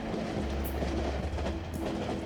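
A long train rolls past steadily and continuously in the PC point-and-click game 3 Minutes To Midnight, a dense rumbling drone with faint rail clatter that holds at a constant, close level with no talk.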